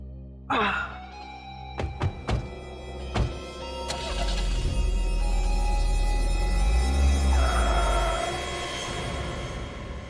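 A car's doors thump shut a few times, then the engine cranks to life and settles into a steady, fairly loud running rumble.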